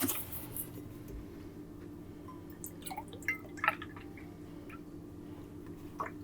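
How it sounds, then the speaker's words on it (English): Milk is poured from a nearly empty gallon jug into a cooking pot for a chocolate cream pie filling. The liquid sound is faint, with scattered drips and splashes over a quiet room hum. "I'm gonna go ahead and add 2 cups of milk"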